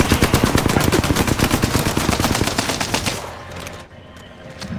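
Rapid bursts of video game gunfire crackle loud and close for about three seconds, then stop, leaving a brief quieter tail with a few faint sounds.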